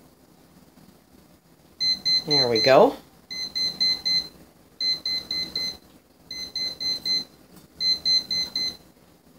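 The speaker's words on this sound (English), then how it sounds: "Okay, our timer is just about to go off." A Presto Flipside waffle maker timer sounds in five bursts of rapid high electronic beeps, each group about a second long with short pauses between, while a person speaks briefly near the start.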